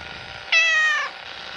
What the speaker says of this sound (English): Oh, the cat. The cat's going to speak with us.